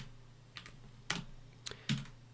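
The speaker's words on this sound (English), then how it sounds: "we're actually doing it with our keyboard pressing Control-C" Control-C pressed on a computer keyboard, a few quiet, separate key clicks and taps spaced over about two seconds, close and isolated.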